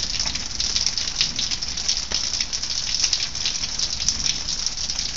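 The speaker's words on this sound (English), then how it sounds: "So, here's our waterfall." Steady rushing water from a waterfall during rain, a dense continuous hiss with no clear breaks, close and fairly loud.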